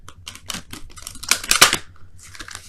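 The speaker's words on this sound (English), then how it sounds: "let me go ahead and quickly shuffle these for your romance angels of the week" Tarot cards are shuffled in a series of quick riffling, slapping bursts that swell in the middle and taper off, close and fairly loud with no talking over them.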